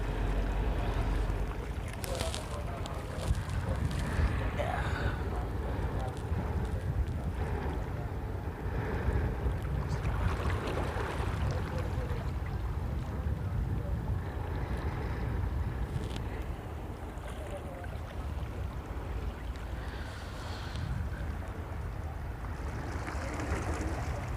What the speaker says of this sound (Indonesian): kapal perdana sudah berangkat